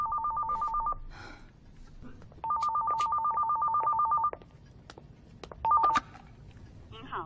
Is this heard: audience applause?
no